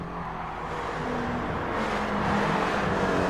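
Race car engines in the racing game GT Sport, a steady loud drone with rising whir as cars jostle and one is tapped onto the grass during a championship race.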